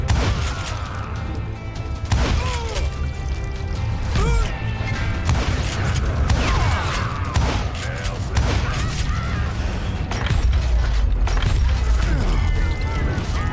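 Rapid gunshots ring out in Call of Juarez Gunslinger, a dense irregular fusillade of loud cracks and impacts that runs throughout, with shouting voices mixed in.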